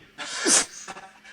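One loud, close sneeze with a breathy burst and a sharp peak, set indoors during a cocktail-making masterclass, followed by faint room noise.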